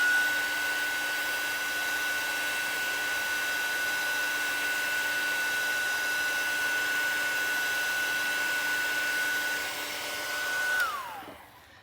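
A heat tool blows steadily on a stamped metal piece, a loud, even whirring roar with a faint high whine that holds for about eleven seconds before dropping away abruptly as the tool shuts off.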